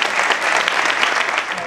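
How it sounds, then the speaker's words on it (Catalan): Loud, dense applause from an audience at the Premis Vall Baixa awards ceremony, a steady wash of many hands clapping without a break. "Un aplaudiment, sí senyor."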